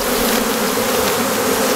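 Calm honeybees on a hive frame during queen rearing give a dense, steady buzzing hum, close and continuous throughout with no voices.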